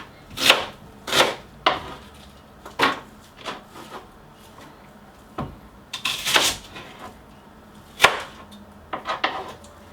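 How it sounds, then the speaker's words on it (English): A knife roughly chops onion on a board in uneven, sharp knocks, some in quick pairs, close and clear against a quiet kitchen. "Now we're gonna roughly cut the onion and put it into this container."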